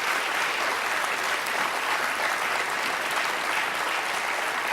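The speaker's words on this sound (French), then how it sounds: "On l'applaudit encore une fois." Studio audience at a televised reality-show gala applauding steadily, a dense, even wash of clapping filling the room throughout with no break.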